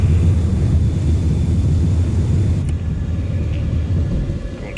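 An F-14 Tomcat jet in Microsoft Flight Simulator climbs after takeoff, giving off a loud, steady low engine rumble and roar that eases slightly toward the end, with no voices.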